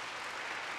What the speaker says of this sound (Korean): 우리 감독님 나오실 때 박수로 한번 크게 영접해 주시죠.